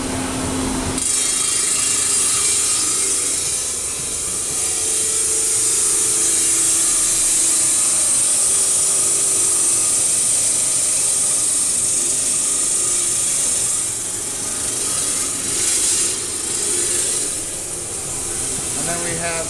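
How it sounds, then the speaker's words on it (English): Diamond saw with water cutting a piece in a workshop, a continuous loud hissing, grinding whine that starts abruptly and holds steady for the full length with small shifts in pitch. "So we actually take it to a diamond saw with water."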